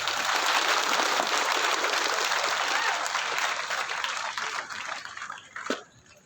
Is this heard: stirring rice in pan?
no